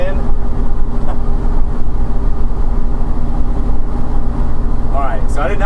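A Kia K5 exhaust note after a sound deadener install, heard from inside as a loud, steady low engine drone with reduced bass, droning continuously throughout.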